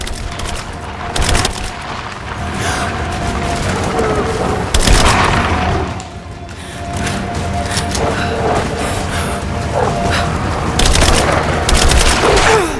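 Gunfire in the Rise of the Tomb Raider video game, Baba Yaga: The Temple of the Witch, comes as dense booming bursts and rattling shots under a steady bed of game noise, with a louder thump midway.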